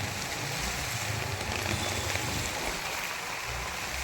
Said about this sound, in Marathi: हा वरतून येतोय पाणी